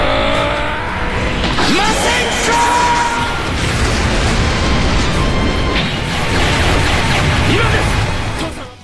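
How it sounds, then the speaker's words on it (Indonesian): Dense, continuous roar of anime battle effects as rapid-fire laser energy blasts from Dragon Ball Super stream out one after another, layered with whooshes, booms and crackling impacts, loud and unbroken throughout. "menembakkan energi laser secara bertubi-tubi ke arah Black dan juga Zamasu"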